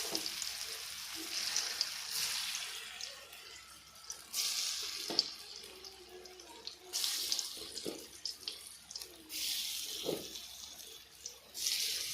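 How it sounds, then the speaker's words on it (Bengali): Fritters frying in hot oil give a steady bubbling sizzle with recurring louder hissing surges every few seconds, close and fairly quiet, with no one speaking. "আমার এই যে বড়াগুলো ভাজা হচ্ছে।"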